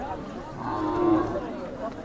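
A Khillar bull at a cattle market in Sangola lets out one low, drawn-out moo, close and loud, against a murmur of market noise.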